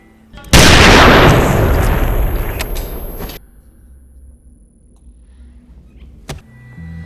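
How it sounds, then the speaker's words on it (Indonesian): A gunshot in a film scene, a man shooting himself, one loud close blast that rings and decays over about three seconds, followed by quiet room tone and a sharp click. "akhirnya narator pun memutuskan menembak kepalanya sendiri"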